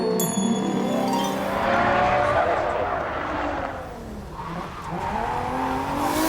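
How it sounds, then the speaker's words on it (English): Car drifting on a practice track with the handbrake pulled, tires squealing and skidding over a strained engine note, continuous and fairly loud. "The start of the drift was brilliant, but the end wasn't."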